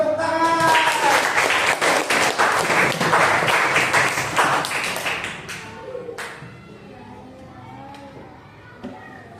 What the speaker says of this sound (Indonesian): Kasih semangat dulu, tepuk tangan.